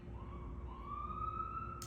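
A distant siren wails faintly, its tone sliding upward and holding, over low background rumble.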